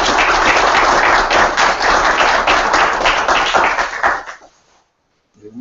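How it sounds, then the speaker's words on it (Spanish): Audience applause at a conference as a guest doctor is introduced, loud sustained clapping for about four seconds that fades out into near silence. "les pido que le demos un fuerte aplauso"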